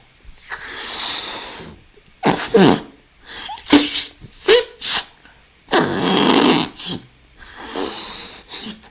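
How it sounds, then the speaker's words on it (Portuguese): Loud, exaggerated breaths, deep inhales alternating with forceful exhales in a series of bursts, close to the microphone during a respiratory physiology lesson, with no talking. "que respiração horrorosa que eu fiz aqui agora"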